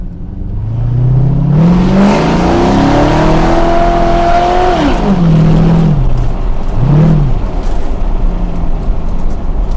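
A Chevrolet Corvette C5 V8 roars loudly while driving, its exhaust note rising through a long acceleration, dropping back, then revving briefly again, heavy and close throughout.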